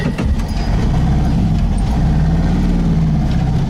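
A 1971 VW Type 3 Squareback 1600 climbs a driveway under power, its engine a loud, close, steady low drone with a rising strain partway through.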